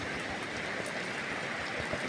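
Rain falls hard and steady on a grain market in Punjab, a dense wash of patter with occasional louder drops, no voices.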